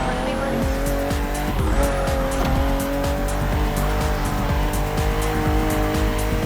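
A BMW M4 CSL race car in The Crew Motorfest drives hard with a loud, continuous engine roar, shifting pitch as it accelerates and changes gear, with tire squeal and skidding mixed in throughout.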